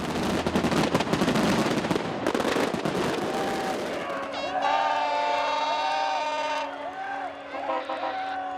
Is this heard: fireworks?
yes